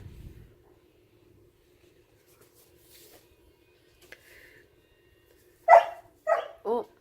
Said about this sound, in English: I got a puppy crying